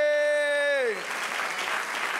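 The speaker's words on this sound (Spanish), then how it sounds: "Dar un aplauso al Señor." Church congregation applauding during a service, a brief burst of clapping that rises as a voice's sung or held tone fades out, fairly close and moderate in level.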